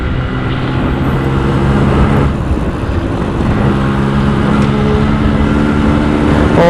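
A Yamaha RX100 two-stroke motorcycle engine runs steadily and loud throughout, a dense droning exhaust roar with harmonic bands, rising slightly in revs without pause and with no talking.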